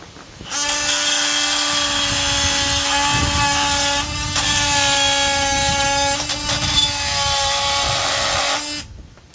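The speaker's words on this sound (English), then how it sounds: "Cut a couple nails here with a brand new Diablo carbide general purpose, and then cut a couple with the Milwaukee" A Milwaukee M12 12V power saw fitted with a Diablo carbide general purpose blade cuts through nails, a steady high-pitched whine with a strong tonal hum running about nine seconds, close and loud, with brief shifts in pitch as the blade bites.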